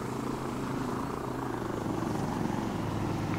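Steady low rotor and engine drone of a helicopter in the video game Insurgency, a continuous close rumble sustained throughout with no pauses.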